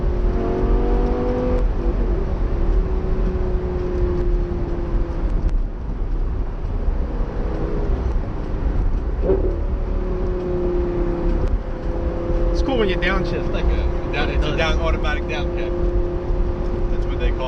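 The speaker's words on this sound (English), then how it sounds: "It's basically the transmission mapping is kicking down, and it's pitted the baffles wide open." A Lamborghini Gallardo LP560 with a naturally aspirated engine downshifts in sport mode with exhaust baffles open, its engine note rising and falling steadily over a constant drone while people talk in the cabin throughout.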